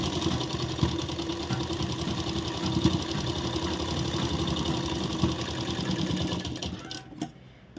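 A sewing machine stitching the final fitting seam of a blouse runs as a continuous, close mechanical whir with rapid needle chatter, then slows and stops just before the end.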